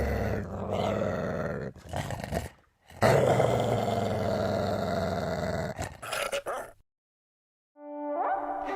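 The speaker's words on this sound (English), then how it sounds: "The dog's cage opened and the dog came running towards the minister." A dog growls and roars loudly and menacingly as it charges out of its opened cage, in a sustained, rough snarl broken by two brief pauses before fading out, followed by a short tonal sting.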